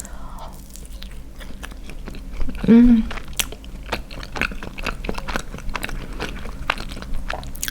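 Someone chews bread filled with sweet pistachio cream, with soft crunches of pistachio pieces and a brief louder bite midway, close to the mic, while they murmur a satisfied hum.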